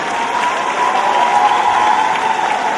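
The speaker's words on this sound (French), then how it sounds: "Applaudissements." An audience at the Miss Orléanais pageant breaks into sustained applause, a full, steady roar of clapping from a large crowd that stays even throughout, with no speech over it.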